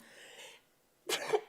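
A single sharp sneeze bursts out near the microphone during a county planning commission meeting, after a stretch of soft background noise, loud and abrupt.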